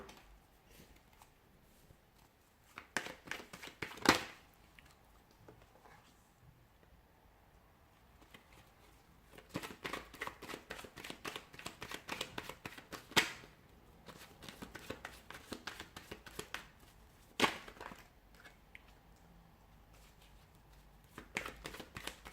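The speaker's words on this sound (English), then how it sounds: "Cards are just flying out." Tarot cards being shuffled by hand in quiet bursts of soft riffling and flicking, several separate rounds with a few sharp snaps as cards fly out, close and fairly faint.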